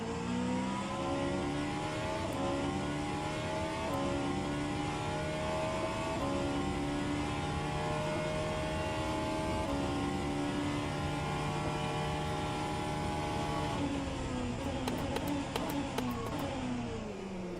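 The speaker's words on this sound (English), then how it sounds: "I think the hypercar sounds more like an LMP2 on steroids." A hypercar racing engine in the rFactor 2 sim racing game at Bahrain howls continuously at close range, rising in pitch through each gear and dropping sharply at every shift over a long run.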